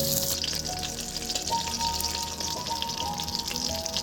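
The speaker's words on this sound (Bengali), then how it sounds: "তো মাছটা ভাজা অনেকটা হয়ে গেছে, আমি এপিট ওপিট একটু করে পাল্টে দিয়েছি।" Fish, a river fish, frying in a pan after being flipped side to side, a steady close sizzle and crackle running throughout with a faint tonal hum in the background.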